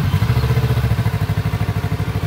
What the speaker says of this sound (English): You can hear the motor in this.